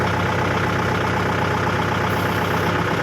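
Wheel loader engine running at a steady, loud drone while the bucket is raised, used at a cassava drying yard; a constant mid-to-low engine rumble fills the whole clip with no talk.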